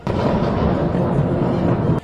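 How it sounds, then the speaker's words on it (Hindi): An Iranian drone strike hits a target at the US embassy in Baghdad, setting off a loud, sustained explosive roar that rumbles heavily for about two seconds before cutting off abruptly. "टारगेट को हिट होते ही देखिए जोरदार धमाका होता है। उसकी आवाज सुनी जा सकती है।"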